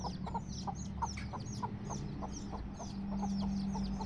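Baby chicks cheep in a rapid, repeated chorus of high, thin peeps close by, over a low steady hum, with soft clucking from a hen mixed in.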